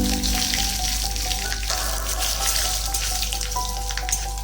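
Dry red chillies, panch phoron five-spice and curry leaves crackle and sizzle in hot mustard oil, a steady close frying hiss with faint pops and no voices.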